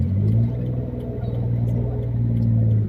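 A car engine held on half clutch while climbing an uphill road in traffic, giving a steady, loud, low droning hum that swells slightly toward the end.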